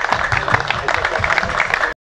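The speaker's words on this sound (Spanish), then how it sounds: "Un aplauso para ustedes" An outdoor crowd at a macaw festival inauguration in Copán Ruinas, Honduras, claps steadily in a dense, even burst of applause that cuts off abruptly after about two seconds.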